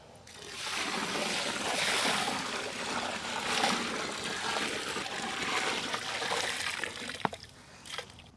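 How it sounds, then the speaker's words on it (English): Water pours and splashes steadily into a pot for several seconds, rising and falling in intensity, ending with a couple of sharp clinks. "Now we will add enough water."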